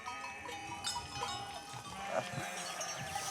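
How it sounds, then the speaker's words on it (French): Goats graze on a field set aside for a future football pitch in Greece, with faint bleats and rustling over a busy outdoor background, the animals at a moderate distance and no clear talk. "Un futur stade de foot qui, en attendant, fait le bonheur des chèvres de Georgios."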